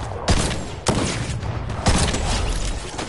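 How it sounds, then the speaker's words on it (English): Rapid bursts of gunfire in the Fortnite video game, several loud volleys with sharp onsets spread across the stretch, dense and close over a steady noisy background. "Wait, someone's shooting us."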